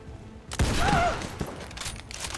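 A gunshot from a flank shot in XCOM 2, one close, loud blast with a rumbling tail that fades over about a second amid game sound effects.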